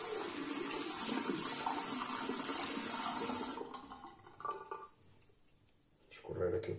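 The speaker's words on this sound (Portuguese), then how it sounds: "Escorrer aqui o pincel." Water runs and splashes steadily as a wet shaving brush is drained over a sink during a wet shave, then stops, leaving a few faint drips and handling sounds.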